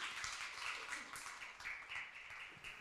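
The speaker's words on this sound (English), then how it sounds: "give our panelists a round of applause to welcome them to the stage" Faint applause from a summit audience welcoming panelists to the stage, a soft patter of many hands clapping at a distance, continuing unevenly throughout.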